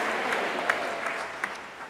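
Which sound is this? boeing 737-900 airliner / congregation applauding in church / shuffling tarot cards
congregation applauding in church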